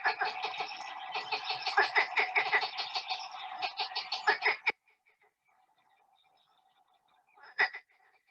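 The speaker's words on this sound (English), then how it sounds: "So marsh frog sounds very much like a sort of duck quacking, or sometimes we say sort of a sinister and rapid laugh." A marsh frog gives a long, rapid, cackling call like sinister laughter or duck quacking, loud and continuous for several seconds, then falls quiet before one short final burst.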